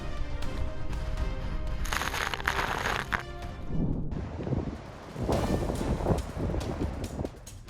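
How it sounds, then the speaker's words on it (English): Storm waves crash against the Okinawa shoreline, with surging surf washes and heavy buffeting of wind on the microphone, loud and continuous throughout. "A storm lashed Okinawa with towering waves crashing against the shoreline, a dramatic yet intimidating scene."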